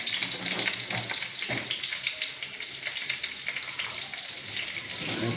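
Okra stir-fries for a Tamil-style poriyal in a home kitchen, giving a continuous, even sizzle and crackle of frying with faint stirring, heard on its own without speech.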